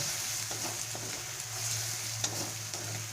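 Turmeric and red chilli powder are stirred and fried with spices in a pan, a steady sizzle with soft scraping strokes, close and alone, under a low hum.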